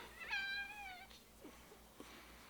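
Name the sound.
cat meowing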